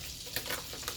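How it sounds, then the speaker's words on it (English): Flour stirred into melted butter in a pan to start a roux for béchamel, giving a steady close sizzle with soft scraping strokes throughout and no voices. "Once the butter's melted, I'm gonna add flour to it"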